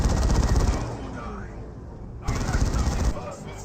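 Sustained machine-gun and rifle fire in the real-time strategy game Dawn of War, rattling in dense bursts against a generator, briefly dropping off before resuming just as loud, with a commentator speaking over it.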